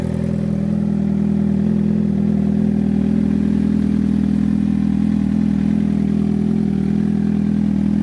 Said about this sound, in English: Nice Two Brothers aftermarket exhaust. It sounds fantastic.